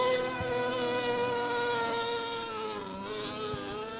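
Racing powerboat engines at an MBRA boat race in Stigler, Oklahoma, give a sustained, high-pitched buzzing drone, steady and somewhat distant, with no talk over it.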